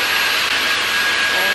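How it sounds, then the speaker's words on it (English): A charged cordless vacuum cleaner runs loud and steady close by, a continuous high-pitched whirring roar with no break. "This is the vacuum. It's charged."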